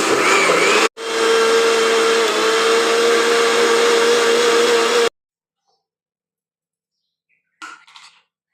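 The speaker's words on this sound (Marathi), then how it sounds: "आता ग्राइंडर करून घ्या." A kitchen mixer grinder whirs loudly and steadily while blending chikoo (sapota) juice with ice and milk, pauses briefly near the start, then cuts off abruptly into silence before a faint rustle.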